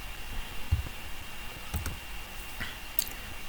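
A few sparse computer mouse clicks as a save button is pressed, faint and close, spaced apart over a low background hiss, with no talking.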